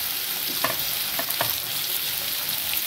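Chopped raw mango tossed into hot tempering with turmeric and curry leaves, giving a steady bright sizzle and frying hiss with a few soft stirring scrapes, close and continuous.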